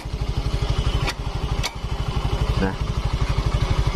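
Close recording of a Yamaha Mio S scooter engine idling with a steady, even putter and light mechanical clatter; someone briefly says something over it.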